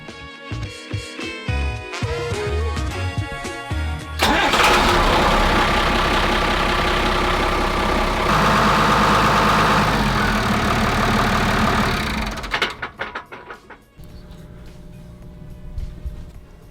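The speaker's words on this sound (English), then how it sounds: "we'll start the engine and let it circulate around a little bit" A boat engine on a Nordhavn 43 trawler starts with a few rough turnovers, then settles into a loud, steady idle that drones for several seconds before cutting out.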